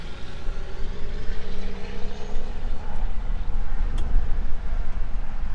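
A 1970 Ford F100 pickup rolls along in a forward gear, a moderate low engine drone and drivetrain rumble with a couple of brief clicks, steady and fairly close.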